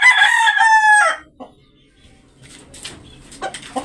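A rooster crows loudly and close for about a second, followed by quieter scratching and rustling with faint clucks.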